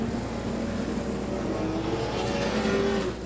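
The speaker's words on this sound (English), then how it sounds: "He is revving that thing up against the rev limiter" A race car's engine screams steadily at the rev limiter on an oval track at the Bulls Eye 300, a loud sustained buzz with a slight stutter and no talking.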